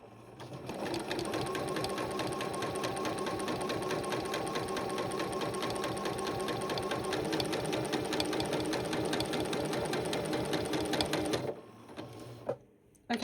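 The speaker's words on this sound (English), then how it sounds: "If anyone has a Janome M8, let me know if that clunking sound is normal." A Janome M8 sewing machine stitches a normal seam in a fast, steady mechanical chatter with a rhythmic clunk, running close for about eleven seconds before stopping, followed by a couple of small handling knocks.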